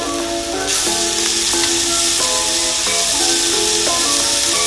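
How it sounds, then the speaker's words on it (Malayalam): Sliced onions sizzle steadily in hot coconut oil inside a traditional uruli pot, a loud, continuous frying hiss with occasional stirring clinks near the microphone. "അതിലേക്ക് വെളിച്ചെണ്ണ ഒഴിച്ചിട്ട് ഞാൻ ഒരു രണ്ടര സവാളയാണ് എടുത്തിട്ടുള്ളത്"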